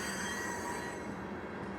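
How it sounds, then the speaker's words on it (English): A passing train fills the air with a dense metallic rumble, and its wheels squeal in sustained, shrill tones against the rails. The sound stays loud and unbroken, with no voices. "I did not expect the train to come at all."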